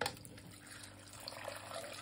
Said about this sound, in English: I'm using roughly about a bottle of water inside of it.